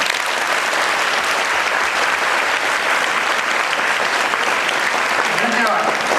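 Loud, sustained applause from a crowd of children at a coaching classes prize distribution, honouring the teachers and parents. It is steady and dense throughout, with little change in level.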